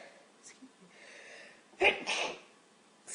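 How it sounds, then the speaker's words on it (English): A woman sneezes loudly and close by, a sharp burst followed by a second blast, with faint murmuring and room noise before it. "Sneeze again."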